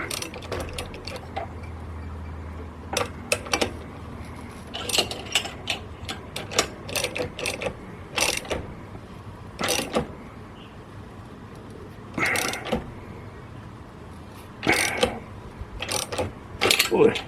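Metal clicks and ratcheting knocks come from a milling machine's self-ejecting drawbar being worked loose, sharp and close, in irregular bursts over a low hum before it pops free.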